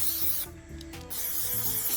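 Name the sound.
spray paint coat on VW Polo badge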